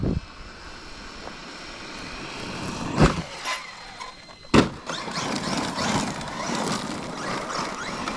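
A Traxxas Maxx Slash 6s RC car with a 6s setup drives fast outdoors, its electric motor giving a sustained rushing whine that swells and fades, broken by two sharp knocks.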